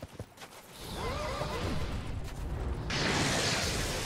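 A horse neighs in the Dark Souls 2: Scholar of the First Sin video game, a wavering whinny heard mid-distance over steady ambient game noise and clopping, with no talking.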